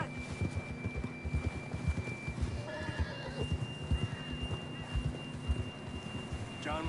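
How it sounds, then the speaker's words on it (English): A horse in a PS4 video game whinnies while its hooves clip-clop in a steady rhythm, with faint rain-like background noise underneath. "John was riding that horse when we left Blackwater."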